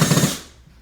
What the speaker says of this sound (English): screwing the backer board into the studs